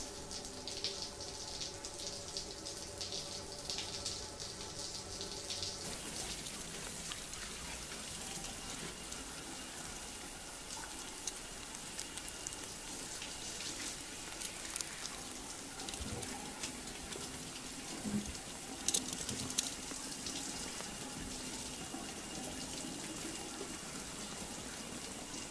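Steady rushing water from a shower in the video game Death Stranding, a continuous broadband spray with only faint shifts, no voices over it.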